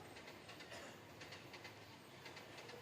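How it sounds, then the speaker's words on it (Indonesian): A train passing close by, steady rolling rumble with rhythmic clickety-clack of wheels over rail joints throughout, loud and continuous with no voices. "Itu bunyi apa? Kereta api."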